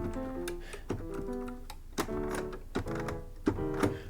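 Keys on a MIDI piano keyboard click and tap close by in an irregular run of light knocks, mixed with soft sustained piano notes sounding through.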